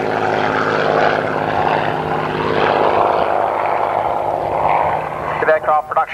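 A Hawker Hurricane aircraft's propeller engine drones steadily with a constant buzzing tone that fades toward the end, with a voice talking over it.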